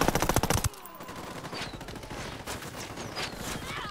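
A rapid burst of automatic gunfire in Ghost Recon Wildlands crackles close and loud, then gives way to a dense, steady wash of more distant shooting and battle noise.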